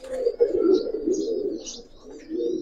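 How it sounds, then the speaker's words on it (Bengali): Giribaz pigeons coo in low, rolling, overlapping calls with a few faint higher chirps, steady and close for a few seconds with no talking. "দুইটা কবুতরই খুব সুন্দর কবুতর।"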